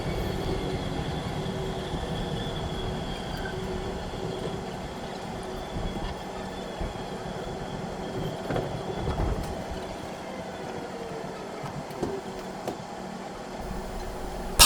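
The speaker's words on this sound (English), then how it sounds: "This train is for Portsmouth Harbour." Inside a South Western Railway train running toward Portsmouth Harbour, a steady rumble of wheels and carriage noise continues with soft rattles and a few clunks, fairly close and without talk.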